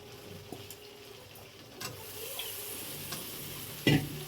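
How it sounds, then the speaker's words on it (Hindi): Potatoes sizzling as they are stirred in a pan while cooking a village-style saag, a soft continuous frying hiss with occasional scraping stirs and a louder clatter near the end. "अब इनमें हमने डाल दिया आलू"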